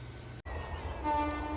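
A train passes at a distance, its horn sounding as a sustained tonal blast over a low rumbling hum, after a brief cut near the start.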